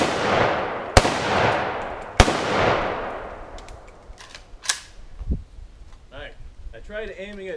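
Backyard pistol shots with hollow point and full metal jacket ammo, two sharp loud cracks about a second apart that ring out with a long decaying echo, followed by faint clatter and someone talking.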